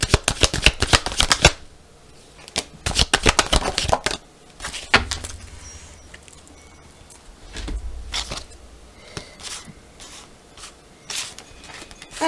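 Oracle cards being shuffled and drawn, with bursts of riffling and flicking cards in several separate rounds alongside softer handling and table noise, close and fairly loud, with no talking.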